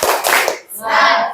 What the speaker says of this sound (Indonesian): Tepuk semangat ya semuanya anak-anak Ibu.